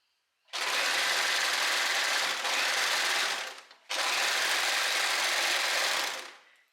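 A sewing machine stitches pyjama fabric in two long, steady, loud runs, the first about three seconds and the second about two and a half, with a short pause between and no talking.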